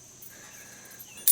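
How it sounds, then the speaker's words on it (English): Camper keys jangling briefly near the end, a quick bright metallic rattle close by after a quiet stretch of low background hum. "Did you bring the camper keys?"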